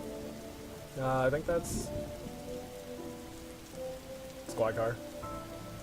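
Steady rain patters on a surface in The Darkside Detective, a continuous hiss running under two short bursts of spoken dialogue.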